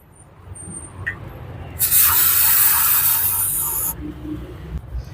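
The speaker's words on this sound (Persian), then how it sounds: "وقتی شما با اسپری روغنی اینو میشورید هم تمیز میشه و هم روغنکاری میشه" Oil-based cleaner spray hisses onto a car's throttle body in a single continuous burst of about two seconds, close and loud against a quiet background.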